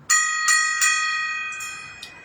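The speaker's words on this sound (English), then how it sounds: "Gonna ring that gong." A metal gong is struck several times in quick succession, each hit ringing out bright and shimmering before a final lighter tap, the tones sustaining and slowly fading in a quiet room.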